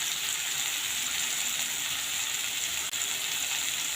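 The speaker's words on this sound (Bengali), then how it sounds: "গ্যাসের ফ্লেমটা মিডিয়াম টু লোতে রেখে এটাকে ভাজবো।" Taro stolons fry on a medium-low gas flame with a steady, even sizzle that runs unbroken, apart from one sharp tick near the end.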